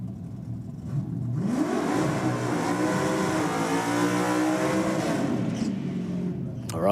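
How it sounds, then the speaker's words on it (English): A Holden VK Commodore doing a burnout at a racing event, the engine roaring up and holding high revs for several seconds, loud and sustained, tailing off at the end. "stout VK Commodore back down here with a healthy burnout"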